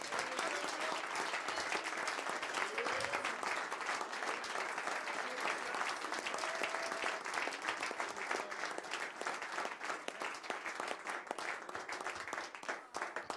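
Congregation applauding in acclamation of the Lord at a French-speaking church service, a dense, continuous wash of clapping that holds steady and loud throughout, with faint voices mixed in.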